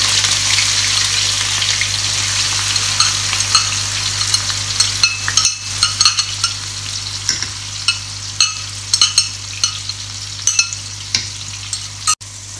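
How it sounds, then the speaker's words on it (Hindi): Onions fry in a pot for chicken pulao, producing a loud continuous sizzle with a low steady hum beneath and regular sharp clinks of a spoon stirring against the metal, close up and with no voices. "प्याज हमने इसमें शामिल कर लिया है और हम इसको जब तक फ्राई करेंगे जब तक ये हल्का गोल्डन ब्राउन नहीं हो जाता जी"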